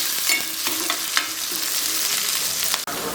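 Chopped onion, mustard seeds and curry leaves frying in hot oil while being stirred, a loud steady sizzle and crackle with scraping stirs, close up and with no talking.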